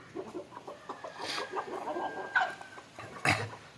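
Native country chickens let out of their coop in the morning cluck in a loose, irregular series at moderate distance, with a sharper, louder squawk near the end.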